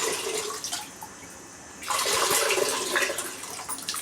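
Water is poured onto tamarind for rasam, a close gushing splash that pauses for a moment, then resumes as a fuller, steady pour.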